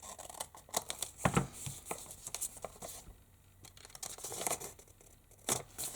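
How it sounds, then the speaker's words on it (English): Scissors cutting an old paper envelope up close, with crisp irregular snips and paper rustling and crinkling, and quiet pauses between strokes. "I'm just using a scissor, it's not going to be straight"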